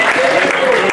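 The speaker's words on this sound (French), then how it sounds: "Applaudissons les femmes" A gala audience applauding, a dense burst of clapping filling the room for a brief moment.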